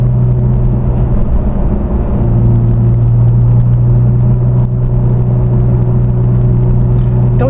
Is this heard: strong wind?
no